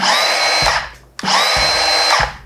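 A loud high-pitched metal-cutting circular saw whines at full speed, spins down briefly, then revs up again for a second long run.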